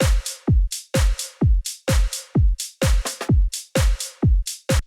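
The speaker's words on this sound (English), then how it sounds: "So that's basic drums for EDM dance." Basic EDM dance drum beat programmed in Ableton Live 12: booming kicks on a steady four-on-the-floor pulse with bright claps and hi-hat hits between them, loud and alone.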